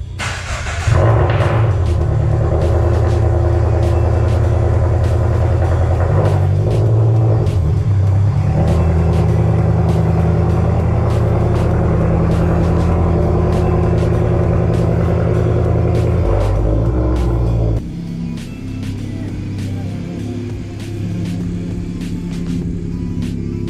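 Cars start and pull out of a garage one after another, loud close engine rumble with revving swells, then a drop to a quieter idle near the end.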